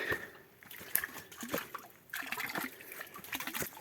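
Water gurgling and trickling inside a mountain well at the end of a Carpathian water line, uneven bubbling splashes and drips close by, fairly quiet, with no talk.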